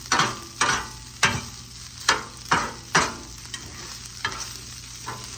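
Rice frying in a pan for teriyaki chicken fried rice, stirred with spatulas in a regular rhythm of scraping strokes over a constant sizzle, close and fairly loud.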